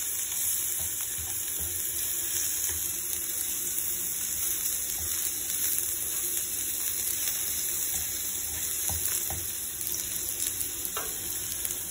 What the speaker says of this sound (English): the garlic as well as the ginger. Fry it for a little bit.